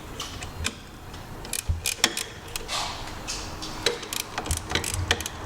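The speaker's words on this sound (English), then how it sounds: "the easiest way to tighten these ones from the back is you use a ratcheting closed-end wrench" A ratcheting closed-end wrench tightens fasteners on an Akrapovic performance exhaust on a Vespa Sprint 150, giving faint, quick clicking ticks in short irregular runs, close by and quiet.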